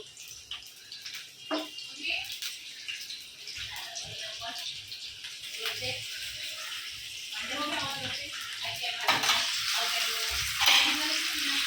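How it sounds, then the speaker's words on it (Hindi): Chicken frying in about half a cup of hot oil in a pan, a steady sizzle and crackle that grows louder toward the end, with scattered clinks and a voice talking over it at times. "फिर इसमें चिकन ऐड करेंगे, मतलब चिकन को फ्राई कर लेंगे इसमें"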